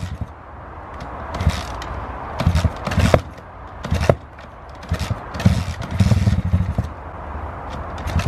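A faulty dirt bike motor sputters and coughs through uneven, rough bursts, surging and dropping irregularly as it struggles to keep running, close and fairly loud.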